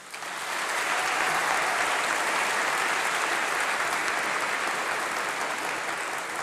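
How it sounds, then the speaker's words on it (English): Long, sustained applause from a large audience at a university graduation ceremony, swelling quickly and holding steady and loud throughout. "They deserve a huge round of applause."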